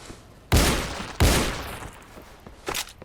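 The large BK gun fires in the video game Those Who Remain: two loud, close booming shots about half a second apart, each ringing out and decaying, followed by a softer third blast near the end.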